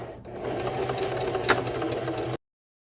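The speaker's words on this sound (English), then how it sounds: "now we're going to understitch the neckline." A sewing machine understitches the neckline of a blouse, a close, steady rapid whirring run of stitching that starts abruptly and cuts off after about two seconds, with a small knock midway.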